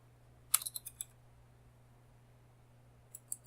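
Computer keyboard keys are pressed for a Control plus S save shortcut, a quick burst of several faint clicks followed by two more clicks a few seconds later in a quiet room.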